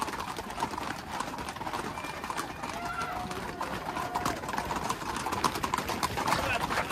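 Hooves of four horses clip-clop continuously on a road during a bull-running street festival in the Gévaudan, a dense rapid clatter of many hoofbeats with crowd noise throughout.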